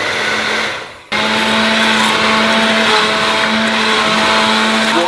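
An electric mixer drones loudly and steadily while blending a sauce for merguez sausages, cutting out briefly before roaring back at full power, with no voices.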